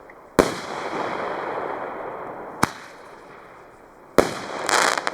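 Roman candles from Piromax, heavy-calibre fireworks, fire three sharp loud bursts a couple of seconds apart with a steady hiss and crackle running between them and a sparkling fizz after the last shot.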